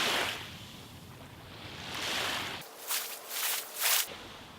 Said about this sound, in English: hope these waves are not too loud